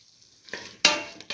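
Salt being stirred into eggplant and split mung bean stew in a hot pan, a soft sizzle swelling with two brief louder scraping stirs, close and alone without talk.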